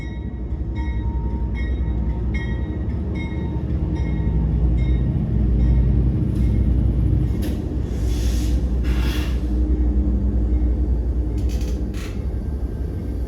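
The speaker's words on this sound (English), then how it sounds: "this is actually how loud the train is as it passes through town" A long freight train rolls through a Kentucky town, a loud, steady rumble of wheels and cars close by, with squealing bursts rising over the roar partway through and no voices.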